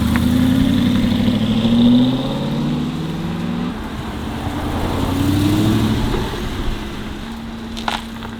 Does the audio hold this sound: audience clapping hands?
no